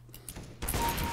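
Gunfire in the video game Counter-Strike: a few quiet shots early, then a louder burst of rapid firing near the end, without talk.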